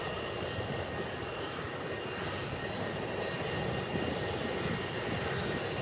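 An arriving airliner at Howard Hamilton International Airport drones steadily with a broad jet-engine roar, a continuous even rumble and whine that stays strong throughout, heard from a distance with no talk.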